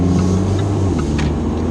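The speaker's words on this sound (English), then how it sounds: "See the revving?" A 2017 Jaguar XE engine hums loudly at a steady idle-like rev, a constant low drone with faint higher whine and no clear surges, heard alone without talk.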